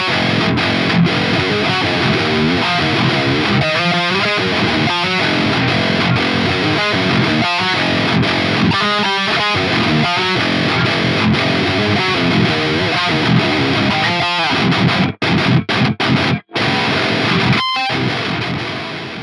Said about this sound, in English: use the Chaos pedal into the clean amplifier